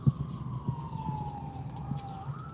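An ambulance or fire truck siren wails steadily in the distance, its pitch gliding slowly down and then back up, over faint outdoor background noise in a community garden.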